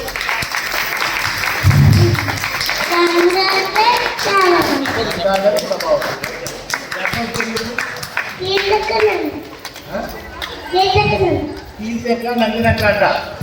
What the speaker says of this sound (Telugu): ఇప్పుడు అందరు గట్టిగా ఒకసారి చప్పట్లు కొట్టాలి